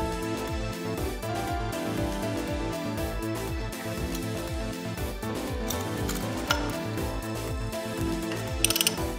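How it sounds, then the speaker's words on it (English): A Ko-ken stud bolt puller with three internal rollers grips and turns a stud bolt, producing loud, continuous mechanical ratcheting and gear clicks at close range in a fast, even rhythm. "The three internal rollers work by narrowing the internal diameter and resulting in the stud bolt being able to be held and rotated."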